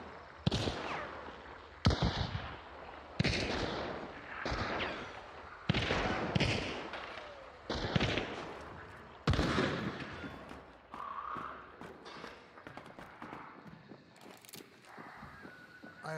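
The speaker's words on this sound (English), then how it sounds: "Oh, they're shooting at each other." Video game gunfire as players shoot at each other: a series of loud, sharp shots, roughly one every second or so, each with a short decay, in an outdoor match.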